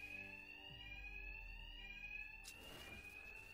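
A bank alarm rings steadily in Batman Arkham, a continuous electronic tone with harmonics under a low rumble of game ambience, cutting off abruptly near the end.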